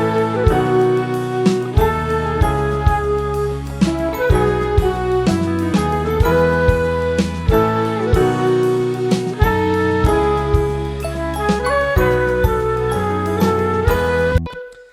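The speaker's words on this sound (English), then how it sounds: "So I have these bells on top of the main melody." Metallic bells chime on top of the main melody in a full song chorus, with bright repeated tinkling hits over steady instrumental backing throughout.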